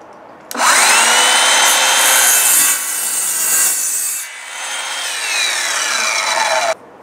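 A power saw cuts through a wooden board, starting abruptly with a loud whine. It dips midway, then resumes steadily and cuts off sharply at the end.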